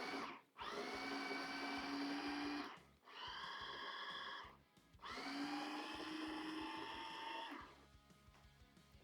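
A blender pulses beef and onion filling for Philly cheese steak spring rolls in three long, loud whirring bursts, with short pauses between them and no voices.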